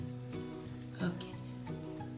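Mango pickle masala with salt cooking in a pan, giving a soft, steady sizzle under a low hum, with a slightly louder crackle around the middle.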